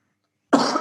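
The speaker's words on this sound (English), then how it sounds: "Got the beer cough." A single loud, close cough from someone who has just been drinking beer, a short harsh burst that follows a moment of silence.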